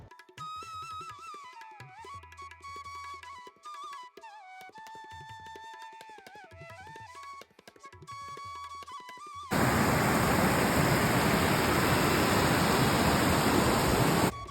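Muregar waterfall rushes as a loud, steady broadband roar that arrives abruptly partway through, taking over from quieter earlier sound and continuing alone to the end.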